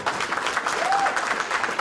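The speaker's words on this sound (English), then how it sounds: "I think he should get the round of applause for" A crowd applauds, steady clapping filling the whole moment at moderate volume.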